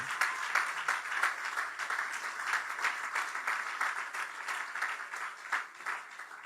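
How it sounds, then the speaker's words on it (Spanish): A church congregation claps in praise during a sermon, a steady, fairly distant wash of many hands with rhythmic pulses running throughout, no voices over it. "Dale fuerte el aplauso al Señor."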